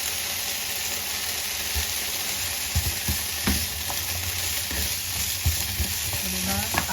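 Pork fries in a pan with a loud, continuous sizzle, broken by occasional clacks and scrapes as it is stirred.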